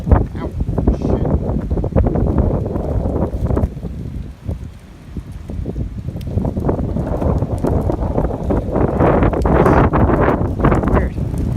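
Strong wind on an Appalachian Trail hilltop, Max Patch, buffets the microphone in a constant loud roar that swells and dips, with a voice talking faintly underneath.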